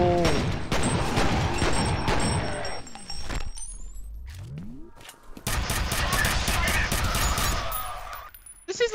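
Weapon fire in the shooter game F.E.A.R., from a gun resembling a nail gun. Rapid bursts of sharp shots come in two stretches separated by a short lull with a rising mechanical whine, loud and close.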